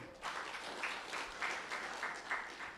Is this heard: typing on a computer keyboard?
no